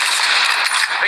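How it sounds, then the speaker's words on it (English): An assault rifle fires in the mobile shooter game Call of Duty Mobile as a loud, dense, rapid burst of shots lasting about a second, with no talk over it. "Assault rifle here."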